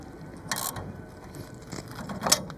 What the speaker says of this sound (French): vous munissez de vos deux clés de 17 et vous serrez